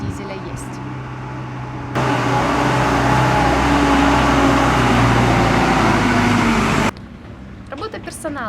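A diesel-powered hotel vehicle at Sultan Gardens Resort in Sharm el-Sheikh, Egypt, rolls past with a loud, broad engine rumble that swells in suddenly and then cuts away, with brief talk before and after.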